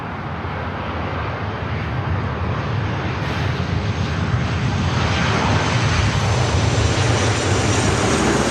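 A Delta Airlines jet, flight 908 from Detroit, comes in to land at Los Angeles LAX with a loud, steady engine roar that builds slightly over several seconds, a broad rushing rumble close by.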